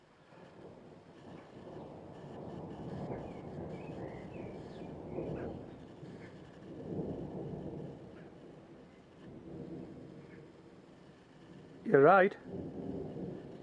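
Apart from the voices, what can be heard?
thunder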